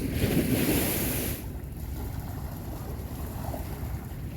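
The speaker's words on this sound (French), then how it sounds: "Il y a trop de vent, trop de vagues surtout." Strong wind and waves at sea off the Polynesian coast, a loud rushing roar with wind buffeting the microphone, steady broadband noise throughout with no voices.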